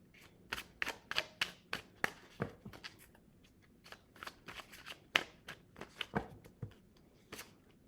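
A tarot card deck is shuffled by hand in a quiet room: repeated sharp riffling bursts and slaps, close and crisp, arriving irregularly with short pauses between them and no speech.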